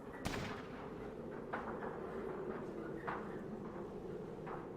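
Gunfire in a Fallout game sounds as a few sharp shots spaced seconds apart over a low rumbling bed, fairly faint overall, with no voices.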